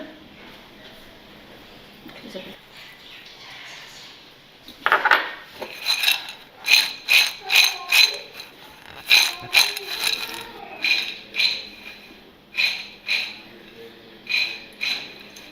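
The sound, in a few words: mixing prepared masala into snack grains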